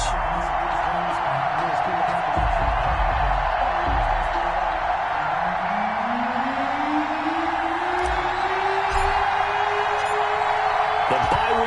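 A stadium crowd at an NFL football game between the Houston Oilers and the Arizona Cardinals keeps up a loud, continuous roar of cheering. A commentator's voice runs over it along with a rising tone.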